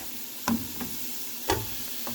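Ground beef dropped into a hot pan of frying onions and garlic, a steady close sizzle broken by two sharp clattering knocks of the meat and a spoon.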